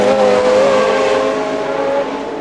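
1970 Formula One race cars at the British Grand Prix, Brands Hatch, one engine holding a loud sustained high-pitched tone that fades slightly as it draws away, with steady crowd and track noise behind.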